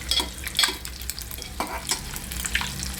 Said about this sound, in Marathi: जे तेल आहे त्या तेलामध्येच आपण फोडणी देणार आहोत आपण कांदा टाकलेला आहे